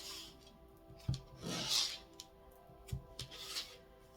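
A shuffled deck of tarot cards is cut up close, giving a few quiet, separate rubs and sliding rasps of card against card, with near-silence between them.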